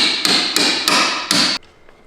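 A hammer punches out a rivet on a Ski-Doo Gen 5 snowmobile skid plate: five sharp metallic blows in an even rhythm over about a second and a half, close and loud, with ringing between strikes.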